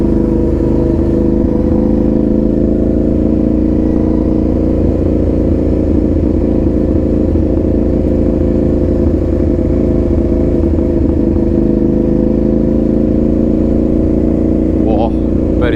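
A motorcycle engine, just fitted with a new rear tyre, runs steadily while riding along a road behind a manor, a loud continuous drone with wind buffeting throughout.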